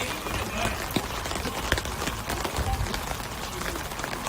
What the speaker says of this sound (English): There's also been a torrential rain ever since the lightning delay.